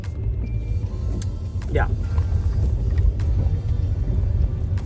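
Steady low engine drone and road rumble from inside a moving car, close and continuous, with a brief spoken word.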